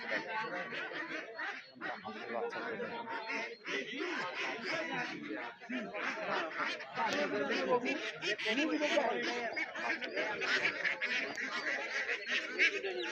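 Ducks honk and quack continuously in a dense chorus at a duck market in Khalashpir, close and loud throughout, with people talking among the birds.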